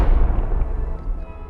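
A grenade explodes in the video game Animal Company, one deep heavy boom that rumbles and fades away over about a second.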